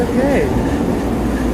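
A SkyTrain metro train passes in Metro Vancouver with a loud rolling rumble and a rising, bending electric whine that fades into a steady drone, with a voice nearby.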